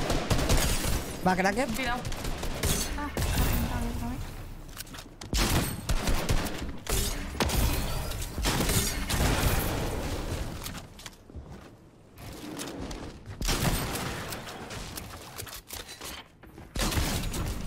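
Rapid bursts of gunfire in the video game Fortnite crackle through a busy match, firing in clustered volleys with brief gaps. Excited voices talk over the shooting throughout.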